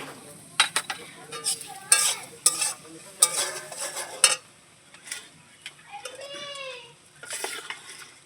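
Green chillies and turmeric powder fry in a pan while a utensil stirs and scrapes against it in a run of close clattering strokes over a soft sizzle, with no voices.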